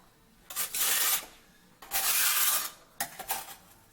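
Stainless steel pan scraping excess grout off mosaic tile in a stand-up shower, three rough gritty rasping strokes, close and fairly loud, with short pauses between them.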